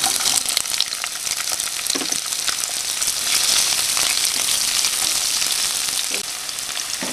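Chopped onion frying in hot oil with browned garlic for pineapple chicken, a steady close sizzle with occasional stirring scrapes and no talk throughout.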